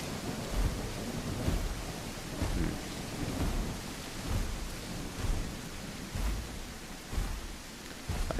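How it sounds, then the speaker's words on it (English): Steady rain pours across an outdoor scene in a dinosaur survival video game, with rumbles of thunder rolling in at intervals beneath the constant hiss; no voices. "See, this rain makes it harder to also hear other people going through bushes."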